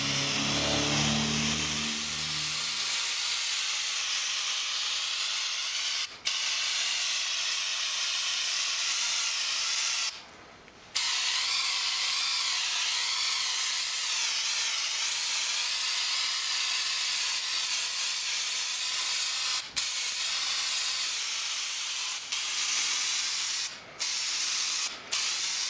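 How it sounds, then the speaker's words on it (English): An aerosol can sprays undercoating on an MG 35 car in a long, steady hiss, close and continuous, broken by a few short pauses and one longer gap midway. "I just kind of spray all of it."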